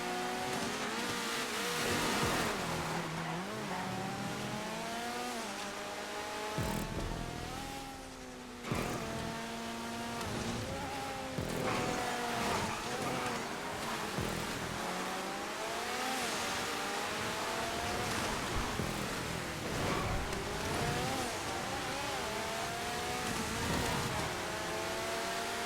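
Race car engines scream continuously on a GTA 5 race track, near and loud, with repeated gear-shift rises and dips in pitch and a brief lull midway as the cars race on.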